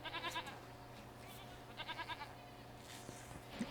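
Sheep at a sheep farm in a video game bleat faintly, two short wavering cries, one at the start and one midway, over a quiet steady background hum.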